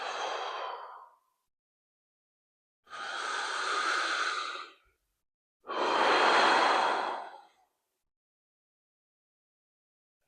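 Slow, deep breaths taken while holding a crab-position stretch on a stability ball, three long audible exhales separated by quiet pauses, close and clear with no talking.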